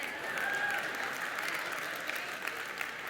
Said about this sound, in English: That's the first time you've clapped.